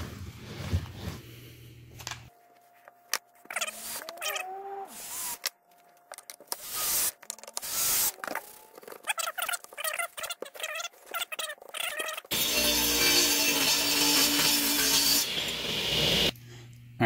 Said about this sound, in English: put a couple screws in it to keep it flat